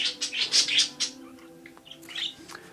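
Bird chirps and squawks come in quick bursts over a low steady hum, fading briefly and then returning a little quieter.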